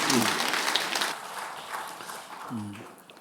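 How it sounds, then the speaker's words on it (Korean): Congregation clapping during a Korean Sunday worship service, fading gradually, with voices heard briefly at the start and again near the end. "박수로 주님께 영광 돌리겠습니다"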